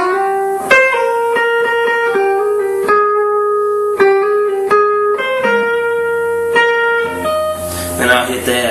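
Guitar lick from a cover, with picked notes linked by hammer-ons and pull-offs in a steady rhythm, played loud and clear with no talk over it.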